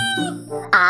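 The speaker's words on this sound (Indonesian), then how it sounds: "Ada Bapak Ayam, teman-teman." A rooster crows close and loud, a harmonic drawn-out call rising into a strong final burst, alone without talk.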